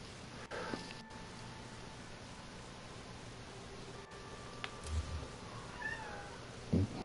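A pet male cat meows beside a person at a computer, with a couple of faint, short meows and a soft chirp late in the clip over quiet background hiss and occasional clicks.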